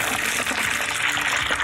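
Hot water gushing steadily into a bucket, a continuous splashing pour heard close and fairly loud throughout, with no voices.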